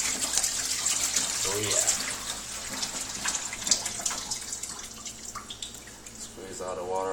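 Running water rinsing a freshly skinned catfish, a steady close splashing wash with dripping, while someone speaks briefly over it.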